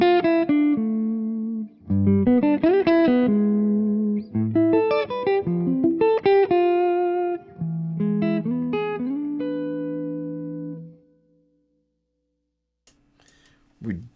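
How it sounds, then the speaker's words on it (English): An electric guitar through a Bassman amp model with Axe-FX reverb plays a run of clean, sustained notes and chords with a spacious reverb, then fades to near silence. "This is a Bassman model, and then the reverb that's in the Axe effects"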